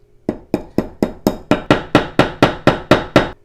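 Twelve evenly spaced taps of a nylon-faced hammer drive an extractor pin into an H&K VP9 pistol slide, each strike a sharp, close knock in a steady rhythm with no talking.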